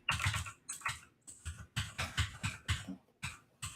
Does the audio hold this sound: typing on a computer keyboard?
yes